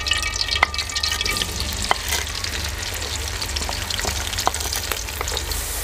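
Chopped onions fry in cooking oil in a kadai on a stove, a steady close sizzle with scattered pops and crackles running throughout, no voices.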